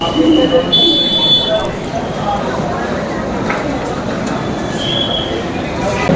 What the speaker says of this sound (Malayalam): ഡൽഹി റെയിൽവേ സ്റ്റേഷൻ ആ കാണുന്നുണ്ടല്ലേ